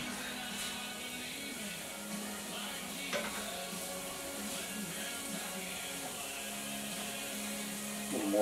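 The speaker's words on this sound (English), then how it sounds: "we're just going to saute this up" Eggs and vegetables sauté in a large frying pan with butter, giving a steady, close sizzle with light stirring throughout, and a few faint clinks of utensil on pan.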